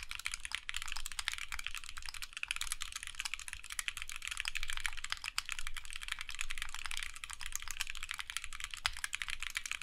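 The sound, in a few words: typing on Alice keyboard, aluminum case, polycarbonate plate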